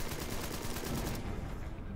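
Gunfire in the video game Empire of Sin, a short rapid volley of shots that rattles for about a second, then cuts off into a quieter tail.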